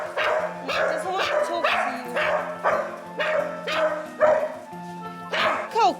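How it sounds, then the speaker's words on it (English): A scared, intimidating dog barks loudly and repeatedly at close range during a veterinary emergency visit, the bursts coming in a steady rhythm with some yips and whimpering sounds mixed in. "she looks very scary and intimidating, and she'll bark and bark and bark"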